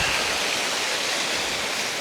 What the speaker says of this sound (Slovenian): Tole je pa še ta spodnji pramen, oziroma ta spodnji slap, ki je tudi najvišji.